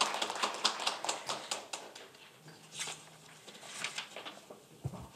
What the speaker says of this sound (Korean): 우리 권수정 의원님 수고하셨다고 같이 박수 한번 보내주시면 고맙겠습니다.